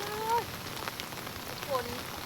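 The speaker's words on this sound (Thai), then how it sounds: "ฝนตกแบบยาวๆเลย" Heavy rain falls steadily with a dense, continuous hiss on surfaces, while faint whistling bird calls come through briefly.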